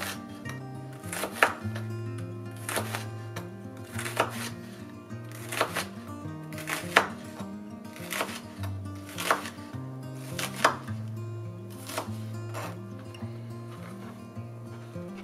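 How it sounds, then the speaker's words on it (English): Trayvax Trek fixed-blade knife chopping shallots on a board, with steady evenly spaced knife strikes repeating about every second over a low background music bed. "I also decided to cut some normal things like shallots."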